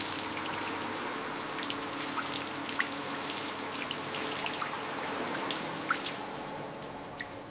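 Water rinses parts from a rusted 1957 Jaguar XK150 under restoration, a continuous close splashing wash with scattered drips and trickles and no voices.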